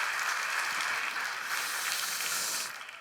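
Audience applauding teachers who have served 15 and 20 years, at a Friday prayer service in a Korean church; a steady, dense, fairly faint wash of clapping that tapers off at the end.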